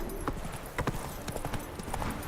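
Hooves of the horse Roach clip-clop in The Witcher game, a quick uneven patter of close, crisp knocks over a steady background bed, with no talking during the steps.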